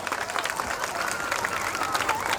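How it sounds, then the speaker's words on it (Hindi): A large crowd claps at an outdoor Dussehra celebration in Shivalik City, Kharar, a dense continuous roar of applause with voices mixed in. "क्या बात है, जोरदार तालियां, कम ऑन।"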